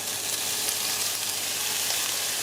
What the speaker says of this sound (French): Je vais venir les faire griller dans un petit fond d'huile d'olive.